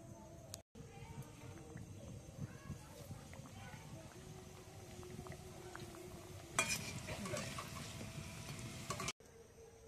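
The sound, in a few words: singara (samosas) frying in oil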